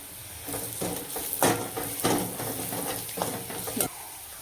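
Vegetables sizzle in a hot pan while coriander powder is stirred in, a spoon scraping in a few slow sweeps over a steady frying hiss, close and clear.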